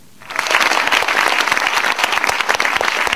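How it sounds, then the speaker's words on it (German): Applause and a standing ovation fill a Basel cinema at the premiere of the documentary about storyteller Trudi Gerster: after a brief quiet moment, dense, loud clapping from a large crowd sets in and holds steady to the end. "Applaus und Standing Ovations für Trudi Gerster."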